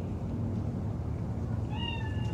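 In Cyberpunk 2077, a single cat meows near the end, a short rising cry that stands out over a dense low rumbling background.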